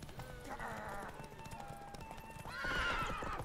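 Geralt's horse Roach in The Witcher 3 game whinnies loudly near the end, after a steady run of clip-clopping hooves, with a voice speaking over parts of it.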